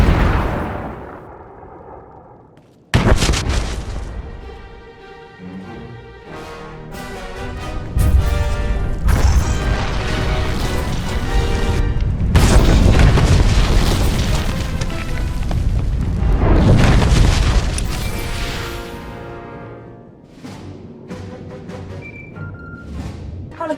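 A deep explosion booms through a Star Wars: The Old Republic cutscene on Corellia, a sudden loud blast followed by long rumbling swells and crashing debris under cinematic music, with no talk.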